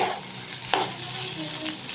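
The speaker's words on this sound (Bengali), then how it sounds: "আর এদিকে কুদ্রি ভাজা হচ্ছে।" Kudri (ivy gourd) with a piece of potato frying in a pan, a steady close hiss and sizzle with a brief stirring scrape partway through.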